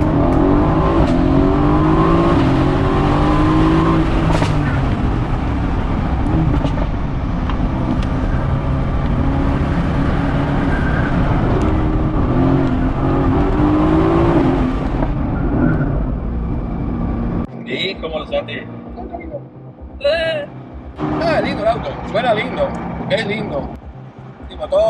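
A Mercedes-AMG GT sports car engine revs loudly and steadily for most of the stretch, then drops to sharper, intermittent blips near the end, with voices present.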